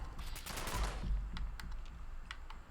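Rapid automatic rifle fire in a video game from a handmade rifle modded for a faster fire rate, a dense continuous burst at the start followed by sparser sharp cracks, steady and fairly loud throughout.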